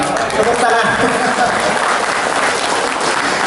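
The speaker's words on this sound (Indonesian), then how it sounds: "Tepuk tangan." An audience at an Islamic health lecture on elderly wellbeing breaks into steady, dense applause, loud and sustained for several seconds with a faint murmur of voices underneath.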